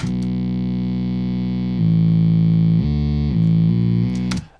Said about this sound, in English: This is just done with a really simple free bass plugin. And then put a amp simulator on it to make it sound a bit beefy.